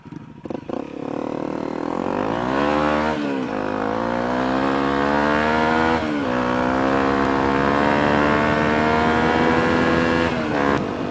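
A Honda Grom or CRF250L motorcycle rides along a road, its engine revving up repeatedly through gear changes, with rising whines broken by brief dips. Loud and close throughout.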